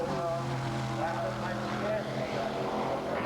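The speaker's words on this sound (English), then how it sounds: "pouring on the power of the big V8 Chevrolet engine" Big V8 Chevrolet engine of a Devin SS race car pouring on power at a track, a steady loud engine drone heard under commentator talk.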